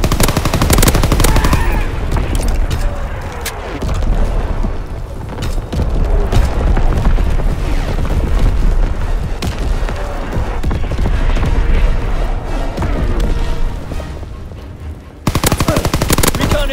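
A video game artillery strike hits loud and close, with dense rapid machine-gun fire and heavy booms rolling almost continuously, and only brief bits of voice.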